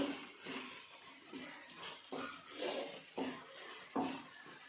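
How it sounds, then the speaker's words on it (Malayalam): Egg being stirred in a pan while it cooks for noodles: soft, faint scraping strokes from a utensil repeat about once a second against the pan, with no talking. "മുട്ടയൊന്ന് വേവുന്ന വരെ നമുക്കൊന്ന് ഇളക്കാം."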